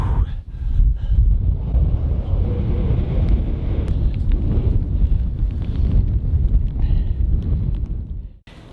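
Strong wind buffets at a -17°C winter truck camp, a heavy, continuous low roar and rumble close to the microphone that dies away abruptly at the end.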